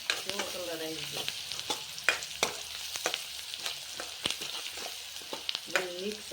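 Spices, salt and turmeric fry in a pan with vegetables while a spoon scrapes and stirs in sharp repeated clinks over a soft sizzle, with someone speaking briefly in between.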